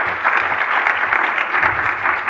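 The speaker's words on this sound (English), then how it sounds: "Can we have a round of applause for Sarah?" Audience round of applause for a speaker at a London conference talk, a brief dense burst of clapping at moderate loudness with no speech.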